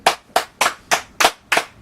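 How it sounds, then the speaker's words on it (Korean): Someone gives about six slow, evenly spaced claps, each a sharp close smack with a short decay, steady in rhythm and alone without talk. "박수."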